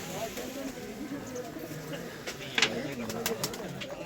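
Pigeons coo on a newly built rooftop pigeon loft, soft low coos repeating under a murmur of nearby voices, with a few sharper clicks and flutters near the end.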